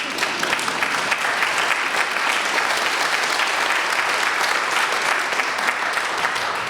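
An audience at the City of Newton's annual Martin Luther King Jr. community celebration breaks into sustained applause, a dense, even clapping from many hands with no voices over it.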